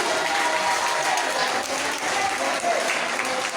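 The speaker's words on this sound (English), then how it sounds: "Clap for the poor man." An audience applauds steadily, a dense wash of many hands clapping at once that continues without pause.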